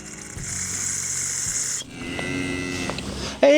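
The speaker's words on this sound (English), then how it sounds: "Hey, moo cow." A cow moos nearby beside a rural roadside during repair work on a small three-wheeled vehicle: long, loud, drawn-out tonal calls with shifting pitch, one breaking into another, with a sharp rising squeal at the end.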